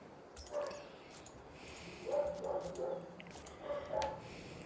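Several dogs barking at a distance on a rural Ohio vineyard property, a few short bursts of barks and yips spaced out over quiet background, faint and far off.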